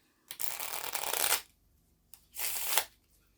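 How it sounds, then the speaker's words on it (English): Two quick bursts of a mini tarot deck being riffle-shuffled close up, each a crisp fluttering rush lasting about a second, separated by a short pause. "I'm going to do 3 shuffles."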